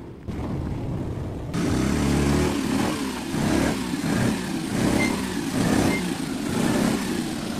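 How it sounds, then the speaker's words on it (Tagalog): A Suzuki F6A engine idling roughly with a misfire and backfires, its running note rising after a brief start and then pulsing unevenly in uneven surges, close and loud with no voices. "Suzuki F60 engine. Ang gibati na balatian ay palyado, walang minor at saka mag-backfire."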